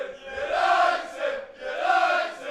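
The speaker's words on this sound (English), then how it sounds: "Got the crowd back involved." A football crowd at an amateur match between Sheffield United Community College and Alhendin CF rallies at a free kick. Two loud, drawn-out swells of massed voices chant and cheer, each rising and then falling away.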